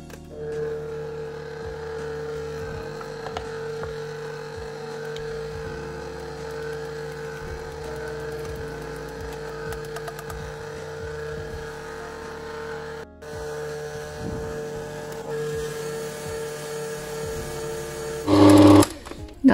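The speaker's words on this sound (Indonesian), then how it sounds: "kalau udah tercampur rata langsung kita matikan mixernya" An electric mixer whirs steadily through cake batter for a marble cake as liquid milk and sour cream or yogurt are added, a continuous mid-pitched motor drone that runs under a voice before a brief louder rattle near the end.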